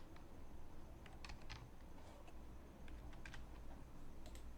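Quick taps on a computer keyboard as a file name is typed, scattered light clicks in short bursts over a low background hum, close and fairly quiet.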